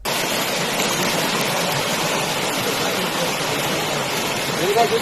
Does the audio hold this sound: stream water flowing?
yes